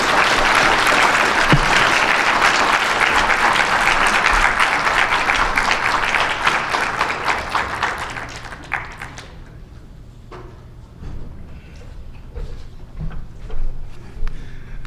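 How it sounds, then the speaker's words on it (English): An audience at a community safety event applauds the mayor, a loud, thick wave of clapping that thins and fades after about nine seconds into a few scattered claps and room noise. "Can we please give our mayor a hand of applause again for those incredible remarks?"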